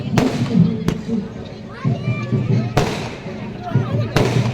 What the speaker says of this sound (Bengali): পরপর বাজিগুলো রাখা রয়েছে তোমরা দেখতে পাচ্ছ সেলগুলো সেখান থেকে কিন্তু একটা একটা করে ফাটছে